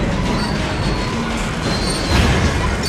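Train braking to a stop in a Spider-Man movie scene, a dense roaring rumble with faint metallic squeal overtones and a heavier surge near the end.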